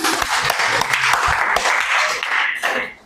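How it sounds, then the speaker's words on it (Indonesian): A room of participants at a group discipleship session gives a short burst of applause, individual claps audible in an uneven patter that thins and fades out near the end. "Kita kasih tepuk tangan dong"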